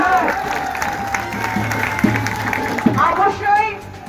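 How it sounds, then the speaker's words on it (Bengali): A crowd applauds at the final of a motorcycle tournament in Dakshin Kandi, with steady clapping and murmur mixed with background voices and crowd noise throughout. "সবাই একটা হাততালি দেন।"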